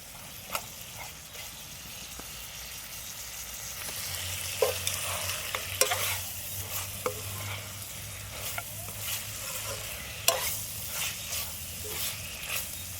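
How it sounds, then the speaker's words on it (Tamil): Mutton masala stirred continuously in a pan, a soft sizzling fry under repeated scraping strokes of a spoon, fairly quiet and close, with no talking. "இப்படியே வந்து கைவிடாமல் கிளறிட்டே இருக்கணும்"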